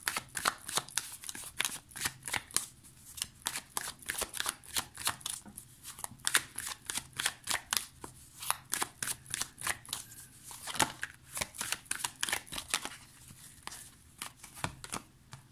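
Luna Somnia tarot cards shuffled by hand, a long run of quick riffling bursts in uneven rhythm, close and fairly quiet with no talk.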